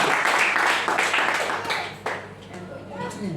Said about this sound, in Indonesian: Tepuk tangan untuk memuliakan kepada Tuhan